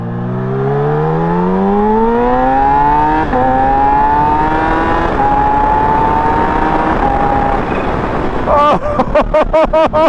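A motorcycle fitted with a cheap aftermarket performance exhaust revs loudly and rises steadily in pitch through long pulls, then ends with a series of sharp, choppy blips close by.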